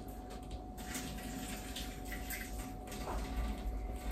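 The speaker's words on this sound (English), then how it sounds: "I'm going to clean this little spoon" Water running over a small spoon being rinsed, a faint steady trickle with light clinks and splashes, close by and quiet throughout.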